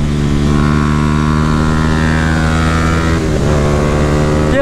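A motorbike engine drones loud and close throughout a ride, its steady tone wavering briefly as the revs shift partway through.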